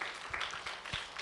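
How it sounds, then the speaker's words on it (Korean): A church congregation claps during a revival service marking the church's 38th anniversary, a brief, faint spread of applause heard at a distance. "하나님께 영광의 박수를 올려드리겠습니다"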